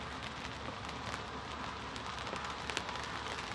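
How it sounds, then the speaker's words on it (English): Heavy rain falling outdoors beside a lake during a carp fishing session, a steady dense hiss of drops hitting surfaces with a few sharper patters, continuous and close, with no voices. "that rain's going down a bit heavier now"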